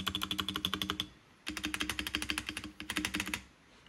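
Fast, close typing on a mechanical gaming keyboard comes in two or three quick bursts of crisp, even keystrokes, with a brief pause between them and no voices.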